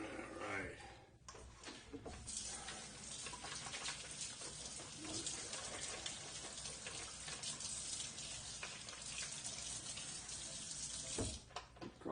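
Water runs steadily from a kitchen sink tap as mixer beater blades are rinsed under it over a small drain screen, a continuous splashing flow that breaks off briefly near the end.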